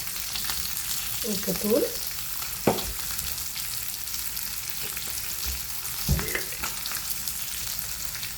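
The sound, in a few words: egg frying in a pan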